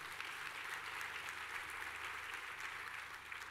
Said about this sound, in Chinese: 给我们的董事长一个热掌声。